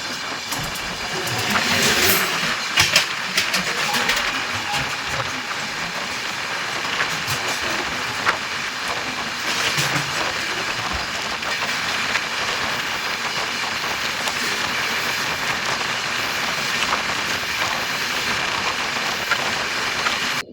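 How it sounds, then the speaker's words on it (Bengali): The Jodhpur Superfast Express from Howrah rolls past on the rails, a sustained hissing rumble of wheels and carriages with scattered clanks and louder bursts early on, steady and fairly close. "one two three zero seven Howrah থেকে যোধপুর যাওয়ার যোধপুর সুপারফাস্ট এক্সপ্রেস"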